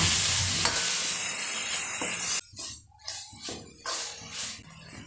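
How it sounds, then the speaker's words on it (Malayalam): Tomatoes and spices are sautéed for an okra curry, opening with a loud steady sizzle that drops into softer, uneven frying with intermittent stirring bursts. "ഇനി ഇതിലേക്ക് രണ്ട് തക്കാളി ചേർക്കുക എന്നിട്ട് നന്നായി വഴറ്റുക"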